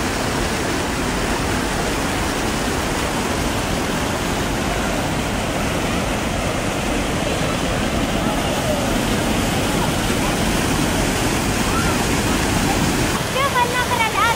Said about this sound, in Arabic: شوف النهر الأزرق في مدينة.